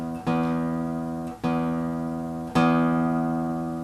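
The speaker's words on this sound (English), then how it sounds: "I'm tuning up, turning counterclockwise, going up. You can hear it." A plucked guitar string rings out three times, each new pluck slightly higher in pitch as the string is tightened toward E, sustaining clearly between plucks.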